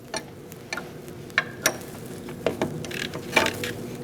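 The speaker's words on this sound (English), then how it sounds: "Once you get it loose, you can get your regular wrench in there." A wrench works loose a brake line fitting on a 2004-2012 Chevrolet Colorado master cylinder, giving a series of small, close, irregular metallic clicks and ratcheting ticks over a quiet background.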